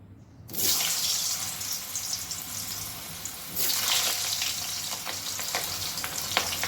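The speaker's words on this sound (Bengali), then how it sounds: "এবারে আমি প্রথমে আলুগুলোকে ভেজে নেব" Potatoes fry in hot mustard oil in a wok, a bright hissing sizzle that bursts in suddenly, holds steady, then swells louder again partway through as more goes into the pan, with faint stirring clinks near the end.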